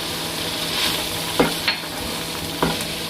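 Whole cumin seeds hit hot oil for a kaleji (liver) dish with the stove just switched off, giving a steady frying hiss with a few brief stirring scrapes and clinks close by.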